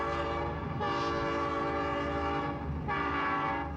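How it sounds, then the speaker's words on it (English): A train from the horror film Martin sounds its horn in long, loud blasts over a steady rumbling, with a brief dip in between. "There's another train thing."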